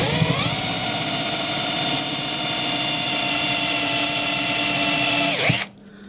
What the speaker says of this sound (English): You can actually drill around the plug